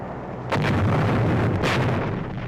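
Bombardment of Corregidor in 1945 in old war-film audio, heard as a continuous loud, rumbling barrage with two heavier booming blasts standing out over the noise and no voices.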